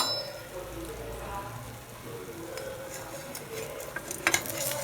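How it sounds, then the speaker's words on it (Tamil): Batter for a bun dosa made without urad dal cooks in a covered pan on a low flame, giving a soft, steady sizzle with faint utensil clinks and a few sharper ticks near the end. "கொஞ்சம் சிம்மில் வச்சு மூடி வச்சுக்குவோம், பொறுமையாக வேகட்டும்"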